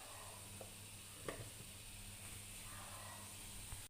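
Tomatoes and onions sizzling in a pan for a cauliflower fry gravy, a faint steady hiss close by with a few soft clicks of stirring, no voices.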